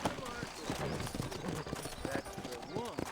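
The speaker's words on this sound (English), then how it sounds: "You ain't gonna find sturdier horses than these in all of New Ulster." Horse hooves clip-clop along a town street in the Western game Red Dead Redemption, a quick uneven patter under steady conversation between characters.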